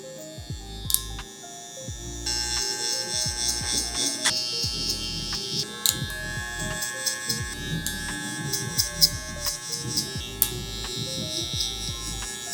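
Electric hair clippers with a 0.5 guard buzz steadily while cutting a low taper fade, the motor tone shifting as strokes pass through hair, with someone talking throughout.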